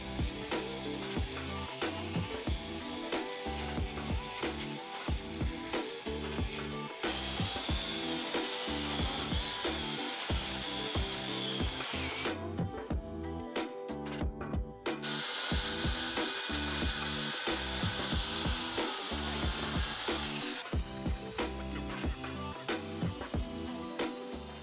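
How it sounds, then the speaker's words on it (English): Angle grinder attachment stripping paint off metal window hinges during a chateau renovation, a steady loud abrasive grinding with rhythmic scraping pulses that shifts in pitch and briefly drops out partway through. "The introduction of the angle grinder attachment made light work of these"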